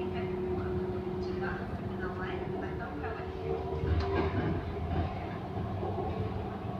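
An MRT train near Kwasa Damansara in Malaysia rumbles along its rails with a steady roar and faint squeals, while a voice talks over it.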